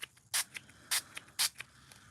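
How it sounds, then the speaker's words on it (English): A handheld spray bottle spritzes a sheet of black card in three short, crisp bursts spaced about half a second apart, close and clear against quiet room noise. "then I'm just going to spray the card"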